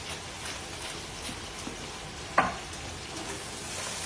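Onions and celery frying in fat rendered from sausage, a steady close sizzle throughout with one brief clack of a utensil midway.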